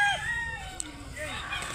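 A rooster crows loudly and close at a chicken market in Mantalungon, Cebu, with one long rising and falling call standing out over a busy background of other fowl and faint voices.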